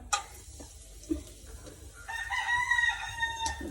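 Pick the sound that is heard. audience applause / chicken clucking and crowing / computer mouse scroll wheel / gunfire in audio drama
chicken clucking and crowing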